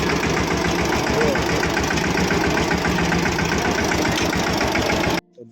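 A tractor engine runs loud and close with a steady idling rumble and knocking pulse, driven over a roadside slope near a house; it stays constant, then cuts off abruptly near the end.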